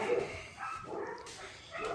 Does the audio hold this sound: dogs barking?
yes